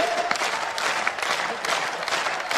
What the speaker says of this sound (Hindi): आपको ताली बजाने की ट्रेनिंग किसने दी है?